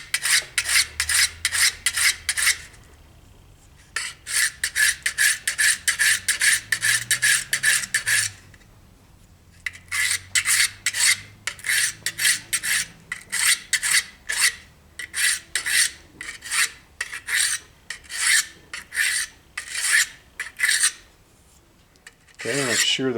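Knife edge stroked across a Harbor Freight diamond hone block, a steady run of quick, even rasping strokes in three bursts separated by short pauses, close and clear with no talking.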